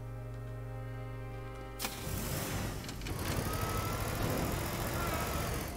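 In the video game Teardown, a steady low car engine hum gives way to a rougher, rumbling idle with mechanical rattling, close and continuous, no voices.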